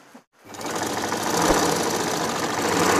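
A black Singer Butterfly sewing machine stitches a bedcover, a close, fast, steady mechanical rattling that begins after a brief pause and continues without talk.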